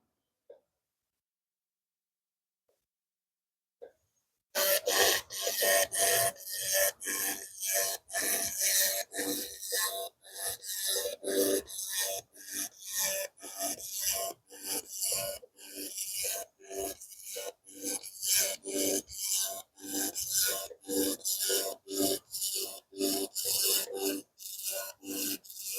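A laser cleaner sweeping a 30 millimeter beam pattern across a stained chair: after a few seconds of near silence, a loud, rapid rasping buzz pulses in fast regular bursts, continuing steadily to the end.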